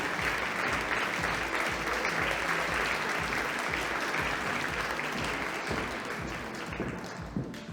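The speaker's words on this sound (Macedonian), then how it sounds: "уште еднаш аплауз" A crowd at a fashion show for designer Elena Luka gives a model a round of applause, steady and full clapping that carries loudly before tapering slightly near the end.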